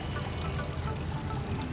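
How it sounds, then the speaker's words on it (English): A water cannon on a Legoland ship ride sprays a continuous rushing stream of water, steady and fairly soft, with no voices. "Water cannon, blast toys."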